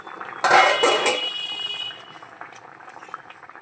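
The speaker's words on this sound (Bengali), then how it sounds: "ঝোল ফুটছে কি টক করে" Thin fish curry broth with hilsa, yam and green chillies boiling in a pot, a loud rush of bubbling right after the lid comes off that settles into a softer, steady simmer.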